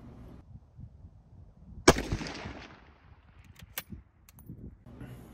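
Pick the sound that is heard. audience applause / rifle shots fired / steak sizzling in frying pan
rifle shots fired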